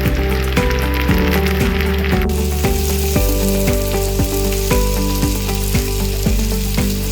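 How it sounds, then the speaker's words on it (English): Steady sizzling and crackling of beans and corn heating in a hot pan, with a rhythmic scraping or stirring tap about twice a second over the constant fry, no voices. "I'm going to add in the beans. And I'm also going to add in the corn to warm all of this up."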